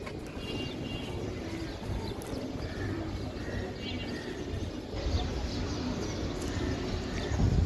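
Giribaz pigeons, a high-flying breed offered for sale in pairs, coo low and soft amid a steady rustling background, with faint voices nearby.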